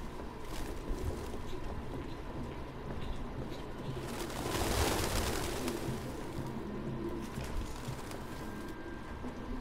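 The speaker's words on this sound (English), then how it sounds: "No human could live with all these fucking pigeons." Pigeons coo in the Detroit: Become Human video game, a soft, continuous murmur of several birds filling the scene at a steady level, swelling slightly midway with no speech over it.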